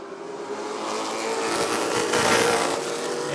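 Late model race cars roar around Rockford Speedway in a continuous, loud blur of engine noise. The roar swells as the pack passes close by.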